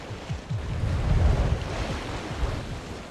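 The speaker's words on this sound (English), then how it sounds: "the calm sea builds to steep high waves" Gale-force wind and steep, high waves at sea aboard a sailboat racing across the ocean: loud, continuous roaring wind noise with heavy surging wave wash close around the hull, no voices.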